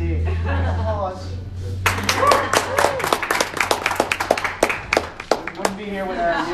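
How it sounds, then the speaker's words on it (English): Audience applause after thanks at an event, a burst of claps starting after a spoken introduction and tapering into scattered individual claps, with speech heard before it. "Applause."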